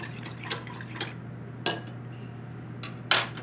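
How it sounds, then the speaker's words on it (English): Hot water being stirred into Jell-O mix in a bowl, a spoon clinking against the side in a few separate sharp taps among soft liquid swirling, close and clear with a low steady hum behind. "We're going to put that water into our Jell-O and stir."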